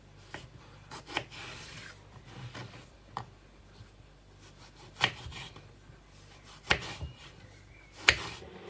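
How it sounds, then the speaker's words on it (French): A knife chops food into small pieces on a board, with sharp, irregular taps and soft scraping strokes spread across several seconds, close and fairly quiet. "Vous devez couper ça vraiment en petits morceaux."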